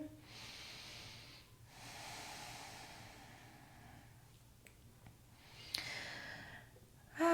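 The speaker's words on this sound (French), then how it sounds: "On inspire, on expire." Slow, deep yoga breaths drawn in and let out, soft airy hissing swells lasting a second or two each with brief gaps, close and faint with no talk.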